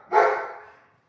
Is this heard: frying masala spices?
no